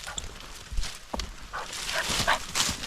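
Bella the dog barks and whimpers outdoors on a winter daily walk, a few short irregular yips and barks mixed with rustling and movement noise, fairly close.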